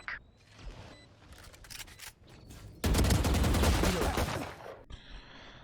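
Rapid automatic gunfire from a Vandal rifle in the tactical shooter Valorant, heard as a dense volley of sharp shots that swells loud midway and then drops off, with scattered earlier shots and game effects, no speech.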